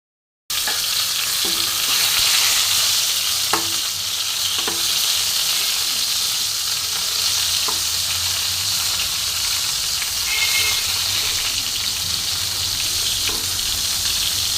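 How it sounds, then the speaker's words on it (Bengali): Pointed gourd (potol) pieces fry steadily in hot oil in a pan, a continuous close sizzle and hiss with a few light clicks of stirring or turning. "পটলটা একটু ভালো করে ভেজে নিলে রান্নাটা ভালো হবে খেতে"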